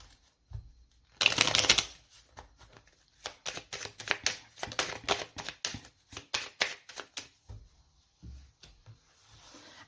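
Tarot cards shuffled by hand: one dense riffle burst, then a long run of quick, irregular slapping and sliding taps, close and clear with no talking.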